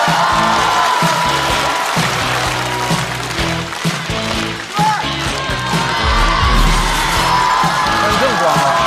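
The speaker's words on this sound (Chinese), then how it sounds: "掌声欢迎张俊" Audience at a Chinese stand-up comedy show cheering, whooping and applauding as a comedian walks on; dense crowd noise fills the whole stretch, loud and continuous, with voices shouting over it.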